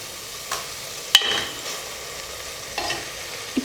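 Tomatoes sautéed down to a paste in a pan for pressure-cooker bottle gourd veg biryani, a soft continuous sizzle broken by several distinct spoon scrapes and taps, close by.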